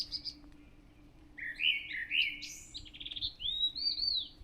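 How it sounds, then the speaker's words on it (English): A small bird sings from shrubs in the morning, a series of thin, bright chirps and warbling phrases at moderate distance over a quiet background hum. "Lovely little sound. It's a very cute bird,"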